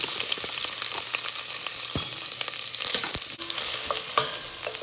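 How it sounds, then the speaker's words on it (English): Onions fry in melted butter in a pot, a close crackling sizzle with scattered sharp pops and spatters, steady and moderately quiet, with no voices. "once your butter is melting, you're just gonna get your onions right on in there"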